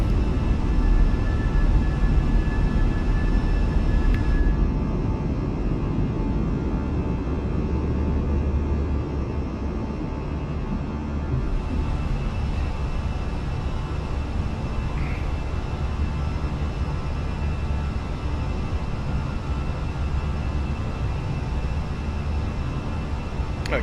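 Airbus A320neo jet engines at takeoff and climb power in a flight simulator, a steady loud broadband roar holding for the whole stretch with no breaks.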